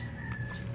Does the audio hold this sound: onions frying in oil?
no